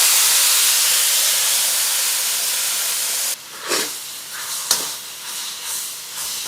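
Meat sizzling over high heat in a wok with sesame oil: a loud, steady hiss for about three seconds, then quieter, uneven spits and crackles.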